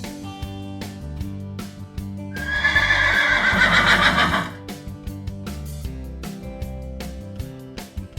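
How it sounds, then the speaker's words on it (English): Farm horses gallop with clip-clopping hooves and give a loud, drawn-out neigh midway, all over steady background music. "Galloping in now are our majestic horses."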